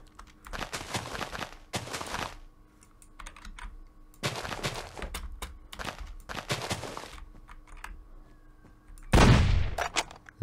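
Bursts of gunfire from a weapon in the video game Minecraft, several rapid rattling volleys spaced across the stretch with a louder final blast, close and sharp with no talking over them.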